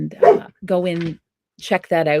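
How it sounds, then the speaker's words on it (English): A pet dog barks a few times close by, loud and in short bursts, while someone speaks over and between the barks. "that's my dog barking."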